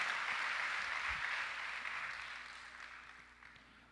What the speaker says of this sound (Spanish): Démosle un aplauso a Dios a nuestras familias en esta, en esta mañana.